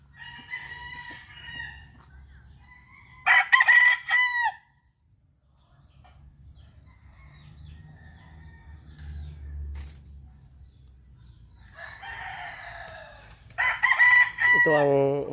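A crossbreed fighting rooster crows loudly nearby, two full cock-a-doodle-doo calls several seconds apart, with a steady insect hum and quiet background between them.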